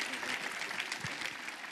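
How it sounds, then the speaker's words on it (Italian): Applause from a large outdoor audience at Circo Massimo during an Andrea Bocelli live pre-summit event, heard as a moderately faint, steady wash of clapping with a faint voice underneath. "E questo veramente merita un applauso"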